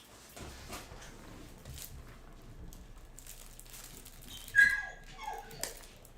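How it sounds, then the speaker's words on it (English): Dogs bark and yelp indoors near a door, a sharp burst of yips rising out of a quiet room, then a few fainter whimpers. "So pardon the barking for a moment."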